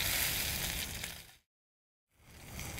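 Ribeye caps sear on a Lifedoo UROD grill with a bright, steady sizzle. The sizzle drops out into a short silence, then comes back.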